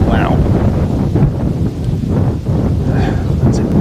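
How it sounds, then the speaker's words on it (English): Gusty breeze buffeting the microphone: loud, continuous low rumbling wind noise that rises and falls in gusts, with faint voices in the background. "A gusty breeze picks up"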